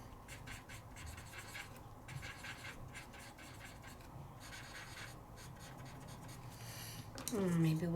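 Colored pencil scratching and rubbing on paper during a stamping and coloring session, a steady soft rasp throughout with brief pauses between strokes, and a short tonal sound near the end.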